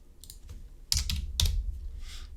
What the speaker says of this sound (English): I will go ahead and type that down